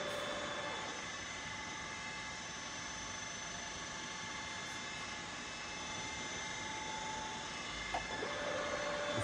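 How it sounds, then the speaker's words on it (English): A ZJ Z3050x16/1 radial arm drill runs its spindle at 250 rpm, a steady mechanical hum with tonal whine, fairly quiet and continuous, with no talking. "The spindle speed has been increased to 250 rotations per minute."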